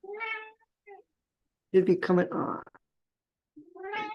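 A cat meows in the background of an online meeting: a couple of faint, short meows, then a louder drawn-out cry, with a brief spoken phrase between them.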